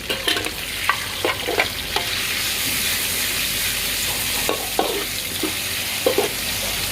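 Pork belly stir-frying in a pan with garlic and other vegetables, a loud constant sizzle with intermittent clanks and scrapes of a utensil against the pan, close up and without talk.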